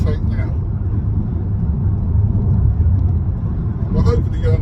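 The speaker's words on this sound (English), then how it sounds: "But I'm going to go for the overtake now." A car accelerates to overtake on the road at a roundabout, its engine and road noise a steady, close low rumble with a person talking over it.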